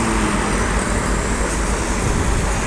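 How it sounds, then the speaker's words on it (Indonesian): A medium NPM bus passes along a road in steady, close traffic, its engine rumble and tyre roar continuous and loud throughout with no pause. "Masuk lagi nih bus, ada NPM."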